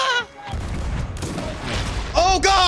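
Booming cannon fire in a ship battle video game rolls out in heavy low rumbling blasts, with excited voices shouting over the top at the start and end.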